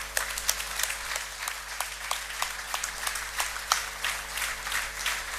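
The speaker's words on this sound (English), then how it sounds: "please give him a round of applause" Audience applause at an inaugural session as a chief minister takes the stage, a hall full of people clapping with distinct sharp claps standing out over a continuous crowd roar, steady throughout.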